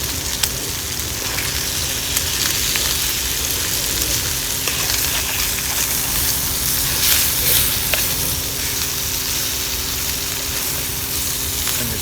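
Sliced mushrooms fry in a pan with a steady, dense sizzle that stays loud and even throughout, with faint crackles and no voices.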